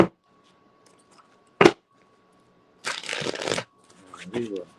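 Tarot cards shuffled in a few quick riffling bursts close by, separated by quiet gaps, with a brief voice near the end.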